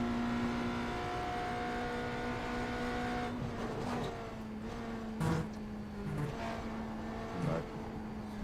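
A race car lapping the Daytona Road Course, its engine a steady sustained drone that shifts pitch a few times, with brief louder bursts near the end as it works through corners.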